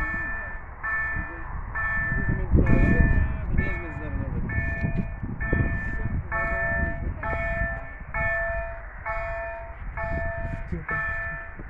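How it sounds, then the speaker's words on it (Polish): A freight train carrying cars rolls past a level crossing in Izbice, Poland, with a steady rumble while the crossing bell rings in a regular repeating rhythm; people talk nearby throughout. "No jedzie ten pociąg z Niemiec."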